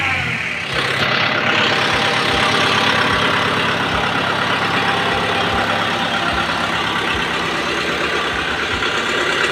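A 2023 Kubota M6040 tractor engine idles steadily up close, a continuous loud diesel rumble with even low knocking pulses throughout and no talking.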